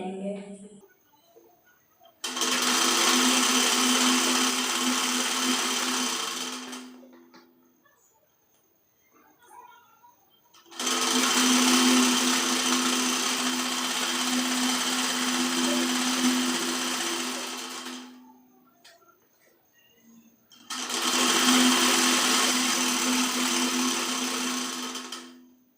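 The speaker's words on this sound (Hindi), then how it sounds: "अब यहाँ से हम लास्ट कॉर्नर से सिलाई लगाना शुरू करेंगे" A sewing machine stitches a kurti in three long, loud, steady runs of several seconds each, separated by near-silent pauses with faint handling noise.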